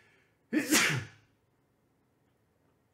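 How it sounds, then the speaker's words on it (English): A single sharp, close human sneeze bursts out once during a baseball card case break, followed by near silence. "I have to sneeze."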